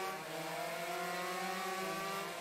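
Racing motorcycles in the video game RIDE 3 drone with steady, continuous high engine whine from start to finish, a loud sustained tone with no talk over it.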